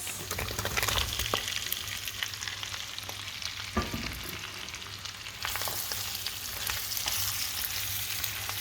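Onions frying in oil in a pan that already holds garlic, with a steady broadband sizzle throughout, a few utensil clicks, and a brighter, louder hiss after midway; no talking.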